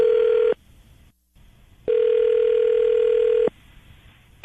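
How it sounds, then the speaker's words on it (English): A telephone line produces steady dial-tone bursts, a long tone, a short gap of silence, then another long tone and low line hiss, close and clear with no voices. "The hardest part of these is me dialing phone numbers."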